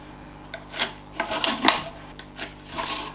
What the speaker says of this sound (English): chop the rest of it with a chisel